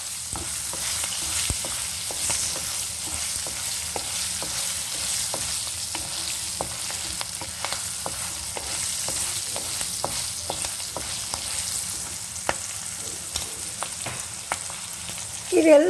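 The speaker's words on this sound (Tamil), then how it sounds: "இது எல்லாமே சேர்ந்து நல்லா வதங்கட்டும்" Green chillies and curry leaves sauté in hot oil in a pan for tamarind rice, giving a steady close sizzle with frequent crackles and spits throughout, ending in a sharper burst of popping.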